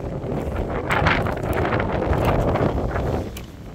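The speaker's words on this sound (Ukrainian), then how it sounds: "І через це у нас тепер тут на ділянці завиває вітер." Wind blowing across a cleared riverside plot with trees felled along the far bank, a steady broadband roar with buffeting against the microphone, loud and continuous throughout with no voices.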